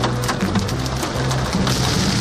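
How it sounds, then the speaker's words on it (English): Dense, steady pattering of hard impacts on a surface, like heavy hail drumming on a car, with scattered louder knocks throughout. "But there's a big hail in there."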